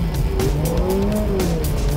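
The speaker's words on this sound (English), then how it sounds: "the Drift King couldn't resist the opportunity to drift in a Ferrari" A Ferrari GT3 race car drifting on a track: steady engine drone with a long, wavering tire squeal sliding up and down in pitch, loud and close throughout.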